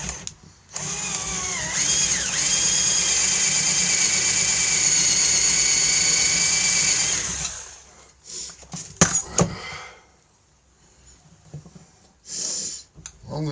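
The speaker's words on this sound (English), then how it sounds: "Let me try and drill it a bit more." A power drill whines loudly and steadily for several seconds while drilling out a stuck screw in a drill chuck, then stops, followed by clattering handling noises.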